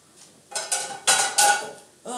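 A metal frying pan clanks and scrapes as it is lifted and set down in a home kitchen, several loud, close knocks separated by brief pauses.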